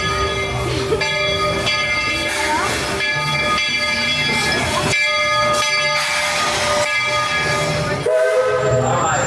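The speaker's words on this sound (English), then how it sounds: "Disney World Railroad is now arriving." Walt Disney World Railroad steam train pulling into a theme park station, its loud whistle and bell ringing over steady rolling wheels and hissing, with crowd noise throughout.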